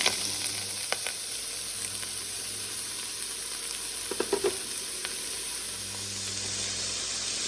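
Chopped onion sizzles in hot olive oil, a steady close frying hiss with light stirring clicks and scrapes, while a low hum runs underneath for a vegetable lasagne filling.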